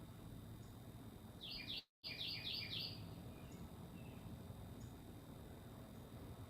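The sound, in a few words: birds singing outdoors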